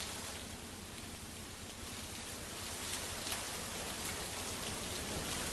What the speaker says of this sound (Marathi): कोथरूड परिसरात जोरदार पाऊस झालाय